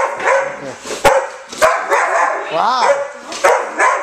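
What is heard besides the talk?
dogs barking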